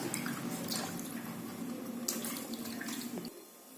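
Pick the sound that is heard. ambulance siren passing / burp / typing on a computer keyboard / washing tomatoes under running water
washing tomatoes under running water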